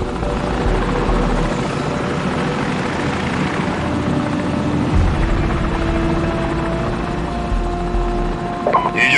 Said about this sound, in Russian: Вражеский вертолет, ложись!